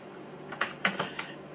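Four quick, close keystrokes tapped on a computer keyboard while entering a printer model into a search, crisp clicks over a quiet background.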